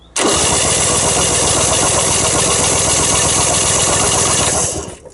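A small engine is cranked over repeatedly during a no-spark check, producing a loud, rapid, even chugging rhythm that runs steadily for several seconds before cutting off.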